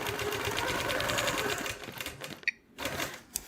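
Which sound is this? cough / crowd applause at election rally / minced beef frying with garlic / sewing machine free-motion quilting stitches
sewing machine free-motion quilting stitches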